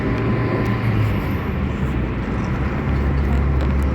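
Steady low road rumble and engine drone fill the cabin of a moving car, a constant close wash of noise with no talk.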